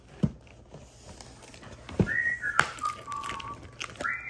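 An Amazon Astro home robot whistles a short, clear tune of a few sliding and held tones, close by in a quiet room, after a brief thump.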